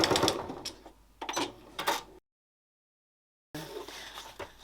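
A sewing machine stitches a curve in fabric in short bursts of mechanical chatter, breaks off into silence while the fabric is swivelled, then starts again close up.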